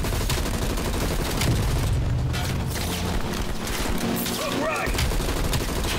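Video game gunfire in a shooter, dense continuous volleys of shots and booms filling the whole stretch, loud and close, with a voice talking at times underneath.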